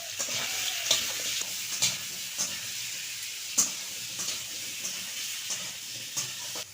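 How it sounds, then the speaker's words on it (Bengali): Pumpkin pieces with salt fry in hot oil, a constant sizzle punctuated by sharp clinks and scrapes from stirring at irregular intervals, close and fairly loud. "এবার কুমড়োটা ভেজে নেব।"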